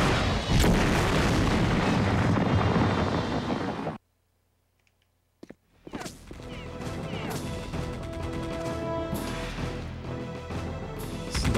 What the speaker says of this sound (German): Was ist da jetzt am Schießen?